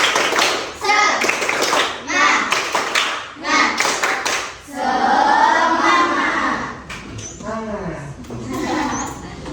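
Classroom children clapping a rhythmic spirit clap in short bursts, mixed with their chanting voices and an adult's speech; claps and shouts alternate with sustained sung syllables, fairly loud and close.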